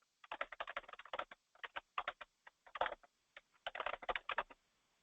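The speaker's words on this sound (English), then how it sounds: "And then I just pick a color and start typing." Keys clatter on a computer keyboard in quick, irregular bursts of typing separated by short pauses, close and clear, with no voices.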